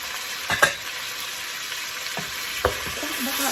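Potatoes frying in a pan with a low steady sizzle, and a few sharp scrapes and clinks of a utensil stirring them close by.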